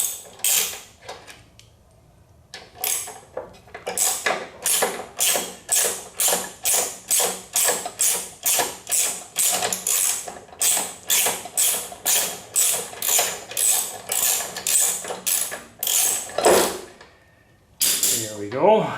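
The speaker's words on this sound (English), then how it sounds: "And now we'll take the two bolts out here. The brake caliper mount." Close, loud ratchet clicking as a wrench loosens the brake caliper mount bolts on a Honda VTX 1300R motorcycle, a long run of quick, regular strokes with short pauses and a final creak.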